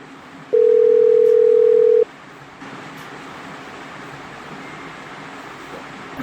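During a phone call being placed, a single steady electronic ringing tone sounds clearly for about a second and a half, then gives way to faint background hiss with no speech.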